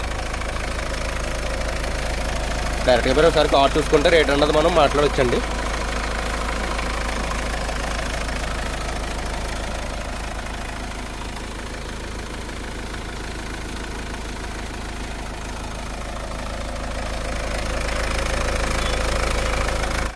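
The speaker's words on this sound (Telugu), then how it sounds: "సో ఇంజిన్ సౌండ్ అయితే ఈ విధంగా ఉందండి" A Mahindra Xylo car engine idles with a steady low hum and faint knocking, while someone speaks briefly over it early on.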